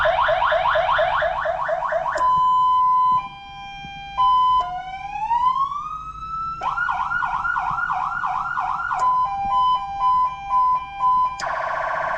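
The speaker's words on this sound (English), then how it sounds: "Lieutenant Nick Wilson added this aftermarket controller PA system. It's pretty cool. It's pretty loud" A loud 200-watt aftermarket police car PA siren controller cycles through its tones: a fast yelp, steady electronic beeps, a rising wail and warbling patterns, each switching abruptly, close and continuous.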